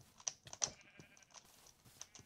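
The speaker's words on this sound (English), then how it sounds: "I'm about to fucking die to sheep." Sheep bleat in the Minecraft video game, several short bleats in quick succession over a faint clicking of keys, with no talk.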